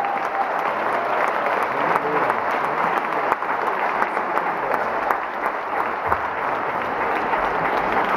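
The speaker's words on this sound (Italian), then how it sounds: "Un applauso per tutti, i vincitori e menzionati, applausi e complimenti da tutti noi." An audience at a children's book fair award ceremony in Bologna applauds the winners, sustained, even clapping from a crowd that fills the room, with some voices mixed in.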